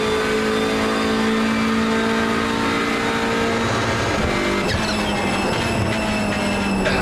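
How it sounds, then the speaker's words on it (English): Hyundai Elantra race car in the iRacing simulator at Sebring, engine droning loudly and steadily with harmonic tones, then a sharp pitch shift near the end as revs change through a downshift on cold tyres. "A bit of a downshift."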